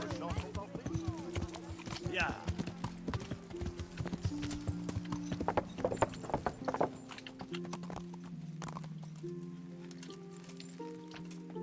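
Steady clip-clop of horse hooves trotting along in the video game Kingdom Come: Deliverance, with a rhythmic tone droning underneath and a voice talking over it.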